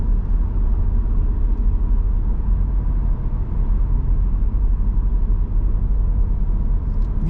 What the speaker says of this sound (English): If you have a listen to the road noise